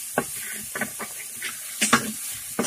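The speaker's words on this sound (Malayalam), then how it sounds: "അപ്പോൾ സവാള ഒന്ന് വഴന്ന് വന്നിട്ടുണ്ട്." Sliced onions soften in a pan for a coconut chicken curry, giving a faint steady sizzle and hiss with soft stirring scrapes now and then.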